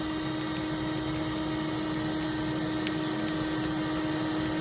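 An EGGniter blower lights charcoal in a Big Green Egg ceramic grill, giving a constant loud whooshing roar with a steady hum that never pauses.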